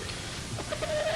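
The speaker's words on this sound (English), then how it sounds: "what are you doing with that chicken? It's my attack chicken." A chicken clucks against a constant hissing background, its short calls faint at first, then a thin, drawn-out squawk stretches across the last half second, with no one talking.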